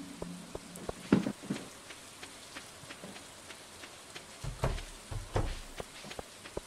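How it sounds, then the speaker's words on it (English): Rain falling in the farming video game Stardew Valley, a soft steady patter broken by scattered clicks and low thumps, with nobody speaking. "Oh, it's still raining?"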